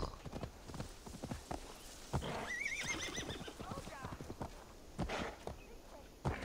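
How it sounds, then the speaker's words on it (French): Horse in Assassin's Creed Valhalla whinnies loudly in a wavering call amid steady clip-clop hoofbeats of a gallop, with game effects and brief thumps around it. "Pourquoi il s'arrête le cheval d'un coup là?"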